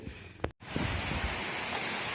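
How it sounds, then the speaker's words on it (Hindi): Heavy rain pours down outside during a sudden downpour, a dense, steady roar of close broadband hiss with a brief dropout near the start, loud and continuous with no voices. "यहाँ बहुत तेज़ बारिश आ रही है"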